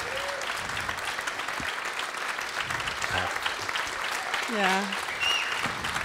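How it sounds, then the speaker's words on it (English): An audience claps after a journalism talk on war or peace in Europe, steady sustained applause filling the room while a speaker's voice carries over it. "he deserves simply such a wow clapping"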